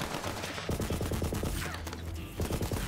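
Rapid automatic gunfire in the video game Borderlands 3, dense and loud, with steady rattling bursts blended into other combat noise and game sound.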